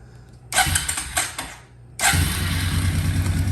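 A Suzuki Ozark 250 ATV engine cranks with a short whirring starter burst, drops off, then catches on a second try and settles into a steady, loud idle, close by with no talk.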